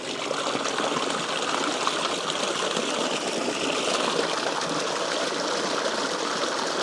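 Water gushing steadily out of the outlet of a 12 volt bilge pump gold dredge, a loud continuous close rushing stream with no pauses and no talking.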